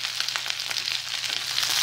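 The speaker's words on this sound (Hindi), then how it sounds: "और इसमें प्याज डाल देते हैं।" Onion sizzles and fries in a hot pan with oil for a mixed veg palak curry, giving a close, steady crackling hiss with small pops throughout.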